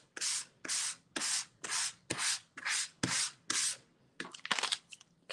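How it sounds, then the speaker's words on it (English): Rhythmic sanding strokes removing acrylic paint from paper, about nine steady scrapes at a regular pace, close and clear, followed by a few quicker, choppier rubs. "So we're sanding off the acrylic paint, and we're getting the color and a bit of the white from the paper."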